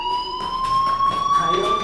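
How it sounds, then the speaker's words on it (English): Fire alarm in the video game Life is Strange rings as a steady, piercing electronic tone with high overtones, continuous for the whole stretch and mixed with some faint background game noise. "do you hear that fire alarm?"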